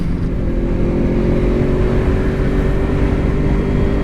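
A 2014 Honda VFR800 motorcycle with V-Tec, its engine droning loud and close in first gear with a steady rising tone.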